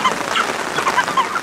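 Geese honk repeatedly on a homestead, several short nasal calls spread across the moment at moderate distance, with no talk over them.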